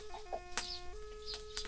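Chickens clucking at a rural Thai home while rice is being steamed, a few short clucks and calls over a steady electrical hum, moderately near.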